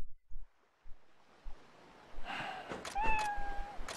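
A cat in the samurai-era video game Ryu Ga Gotoku Ishin lets out a short, thin meow near the end. Soft thumps come before it, and faint wave-like ambience runs underneath.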